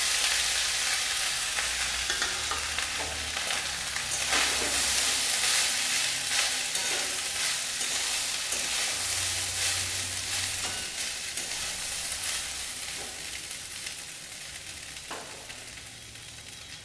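Rice fries in ghee for ghee rice with a loud, continuous sizzle and stirring scrapes close by that ease slightly toward the end, with no talking.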